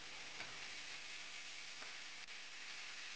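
Diced lean pork stir-frying in hot oil in a wok, a steady close sizzle and hiss running throughout with a few faint stirring scrapes.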